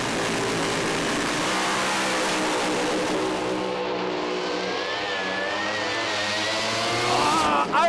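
A Pro Alcohol drag racing car at Willowbank Raceway revs hard and continuously, a loud, dense engine roar with rising harmonic sweeps that fills the whole stretch close to the microphone.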